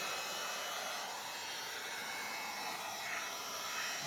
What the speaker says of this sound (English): The heat will make it flow a lot easier.